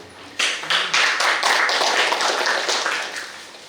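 Applause from a workshop audience at a university hall in Semarang, a dense, steady burst of many hands clapping that starts abruptly, holds for a few seconds, then tapers off.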